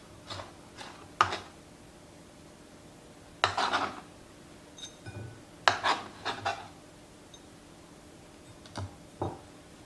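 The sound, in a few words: chopping cilantro for a marinade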